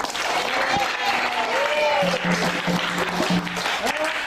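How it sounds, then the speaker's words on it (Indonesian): A classroom applauds a student named Yogi during an arts lesson on karawitan gamelan, steady group clapping throughout with a tonal hum and faint voices mixed in. "Tepuk tangan buat Mas Yogi"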